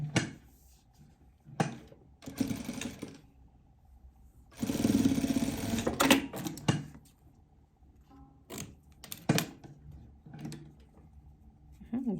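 A sewing machine stitches fabric for a dotted fir-tree patchwork quilt. A short burst of fast mechanical whirring stands out amid quieter gaps and scattered handling knocks and clicks.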